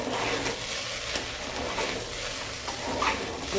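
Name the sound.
roasting and stirring rice with spices in a pan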